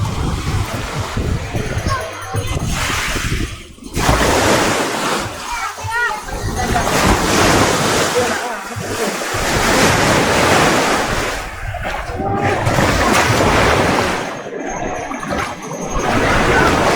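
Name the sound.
waves on the shore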